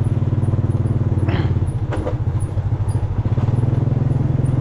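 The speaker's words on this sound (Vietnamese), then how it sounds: "chúng ta mất khoảng độ 10 phút để đi test thử cái máy nổ" A diesel backup generator at a Vietnamese telecom BTS station runs steadily, with a loud, close, rhythmic low engine thrum and occasional clatter throughout.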